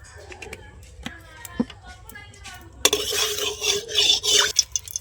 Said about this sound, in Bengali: এবার আমি কড়ার মধ্যে সর্ষের তেল দিয়ে দিচ্ছি।